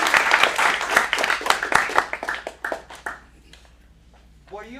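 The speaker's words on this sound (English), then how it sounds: "Let's give them a round of applause." An audience at a Phoenix acting studio's teen showcase applauds before a sketch, with a dense burst of clapping that thins and fades after about three seconds as voices begin to be heard.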